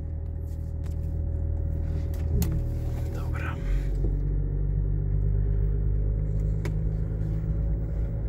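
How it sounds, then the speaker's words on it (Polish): Inside a Range Rover Vogue with a 3.0 inline-six diesel and 471,000 km, a low steady engine drone and rumble carries while driving, with a couple of brief clicks over it. "ten klekot jest wyczuwalny, ale to jest klekot przyjemny, bo jest to 6 garów i to w rzędzie"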